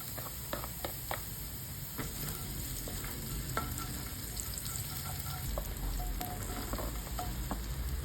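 Onion fries in a pan for instant noodles, a continuous close sizzle broken by scattered spatula scrapes and taps as it is stirred, with no talking.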